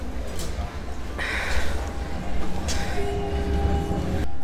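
Rumbling rail noise and rolling wheels fill a metro station in Portugal, with squealing metal, a brief tonal hum and scattered clatter echoing nearby.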